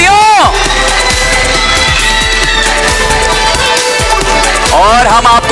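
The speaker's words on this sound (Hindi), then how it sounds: "तालियां जोर से बजाओ हैदराबादियों।" A Hyderabad game show audience bursts into loud cheering and clapping, with shouts and whoops from a crowd and a loud announcer voice heard over the top, close and sustained throughout.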